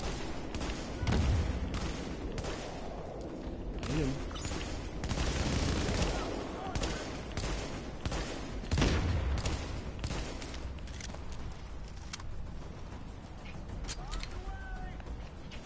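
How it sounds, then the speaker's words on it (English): Gunfire in Tom Clancy's The Division during an Incursion mission, with repeated sharp bursts and cracks spread across the scene, some loud and close, others fainter, over a busy game background. "I'm shooting the enemy."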